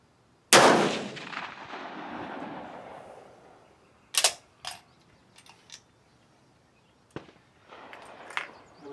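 A rifle fired over a chronograph during load development, a single sharp, loud report with a long rolling echo, followed by clicks and handling noises of the gun afterward.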